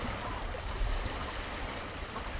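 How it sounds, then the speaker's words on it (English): Processed ocean water recording gives a continuous dense rushing wash with a deep, rumbling, monster-like low end, steady and fairly loud throughout with no voices. "It's just water, but it's got this weird, like, monster sound."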